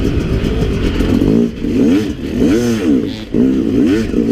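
A Yamaha YZ250X dirt bike engine revs loud and close, rising and falling in repeated surges with shifting pitch, alone without talk.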